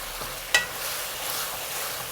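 Lemon chicken stir fry is stirred in a hot pan for a Chinese takeout-style dish, with a steady sizzle and one sharp scrape of the utensil near the start, no voices.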